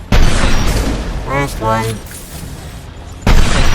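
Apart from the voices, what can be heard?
sniper rifle shots in the video game Mass Effect 2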